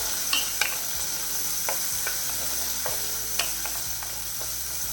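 Shallots for a Kerala fish curry sizzle steadily in hot oil, with a constant frying hiss broken by scattered clinks and scrapes of a stirring spoon against the pan.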